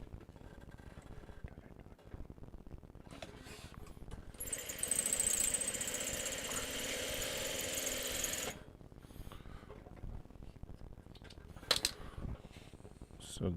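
A sewing machine stitching quilt block pieces together runs in one steady, moderately quiet whirring burst of about four seconds, framed by quiet handling noises before and after.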